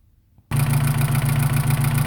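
A car engine running on petrol, during a diagnostic check with a test probe, starts abruptly after a brief near-silence and then idles steadily and loudly with an even, slightly clattering mid-pitched hum.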